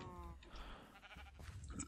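A sheep bleats in the modded Minecraft pack FTB Infinity, a short wavering cry at the start followed by quieter farm and game noises, all fairly faint.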